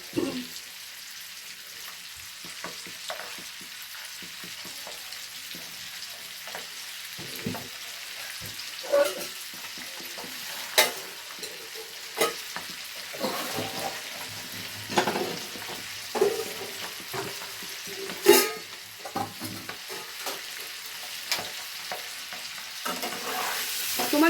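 Boiled eggs frying in curry masala in a pan over the gas, a soft continuous sizzle broken by irregular stirring scrapes and spatters, close but low in level with no speech.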